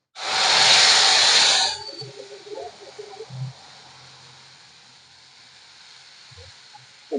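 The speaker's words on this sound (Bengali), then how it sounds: "ঢেলে দেব ঝিঙে বাটা।" Ridge gourd paste hits hot oil tempered with black cumin and gives a loud, sharp burst of sizzling hiss lasting under two seconds. The hiss then drops to a faint simmer with a few soft knocks.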